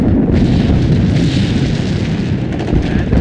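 Artillery explosions from the game Sudden Strike 2 make a dense, continuous low rumble of booms that overlap steadily for the whole stretch, loud and close, with no clear gaps between blasts.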